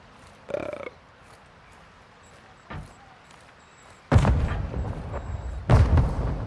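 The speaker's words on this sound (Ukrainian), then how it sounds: "Вони стріляються там. А, то не вони стріляють." Gunfire in the Warzone DMZ video game: a few sharp distant reports early on, then two louder, closer booming shots near the end, with quiet stretches between and no talk.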